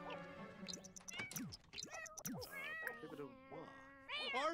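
Cat meowing in the video game The Sims 4, a string of short rising and falling meows and trills, fairly close, with game music and faint talk in the background.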